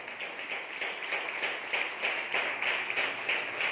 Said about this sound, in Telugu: విశ్వసించిన చప్పట్లు కూడా దేవుని స్తుతిస్తారా?